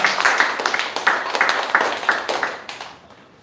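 A room full of people at a workplace safety day event claps together in a brisk burst of applause that slowly thins out and fades near the end.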